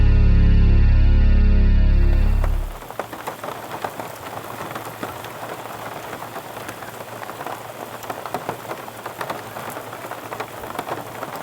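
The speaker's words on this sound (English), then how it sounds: "woke up to a nice mountain rainstorm" Rain from a mountain rainstorm patters steadily on surfaces, dense and continuous, following a loud music passage that cuts off in the first couple of seconds.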